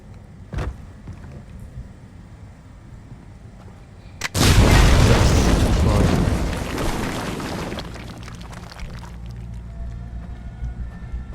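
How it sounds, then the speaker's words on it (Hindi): A big explosion blasts open a path in Far Cry 3: after a sharp early crack, a sudden loud boom bursts in and rumbles for several seconds before fading into lingering ambient noise. "तो उड़ा दिया इसने फिर आगे का रास्ता। अब हम उड़ा के दिया, खोल दिया इसने रास्ता।"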